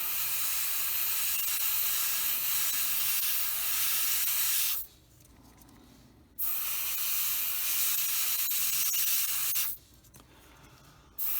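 Aerosol spray paint hisses onto model train tracks in two long, steady bursts separated by a short pause, with a third burst starting at the end, close and loud.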